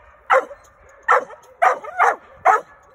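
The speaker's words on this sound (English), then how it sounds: "Sure does have a good bark." Dog barking five times in sharp, evenly spaced barks, close and loud, alone with no talk during a training session.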